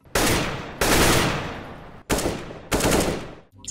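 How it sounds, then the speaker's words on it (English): Loud bursts of AK-47 automatic fire from the shooter game CS:GO, four close, sharp volleys with brief gaps between them and no voices. "This sound of the AK-47"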